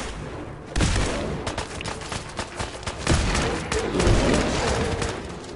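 Assault rifle fire in Fallout 4 breaks out after a quiet start, coming as loud, close, rapid bursts with heavier swells around the middle and later.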